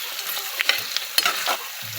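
Onions frying for lemon rice (chitranna), with a steady sizzle and crackle broken by a few sharper stirring scrapes against the pan, close and moderately loud, no voices.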